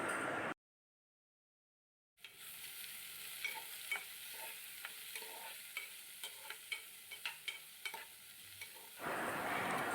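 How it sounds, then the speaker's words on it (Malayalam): Sliced onions sauté and sizzle in a hot pan while a spoon stirs them with scraping clicks, after a brief silent gap near the start, loud and close with no talk. "എന്നിട്ട് നന്നായി അത് മിക്സ് ചെയ്ത് വഴറ്റി കൊടുക്കുകയാണ്."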